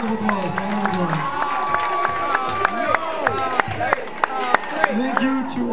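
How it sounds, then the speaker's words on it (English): A school crowd at a color war event claps and cheers for the third-place blue team, with scattered shouts and children's voices over uneven clapping, fairly distant and under a lively murmur of voices. "Everybody give a round of applause for the blue team."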